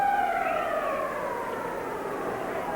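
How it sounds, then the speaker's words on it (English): A hockey arena siren sounding to end the second period of a 1981 NHL playoff game between the Philadelphia Flyers and Quebec Nordiques, a sustained wailing horn tone sliding downward over a noisy crowd. "There's the siren to end the second period."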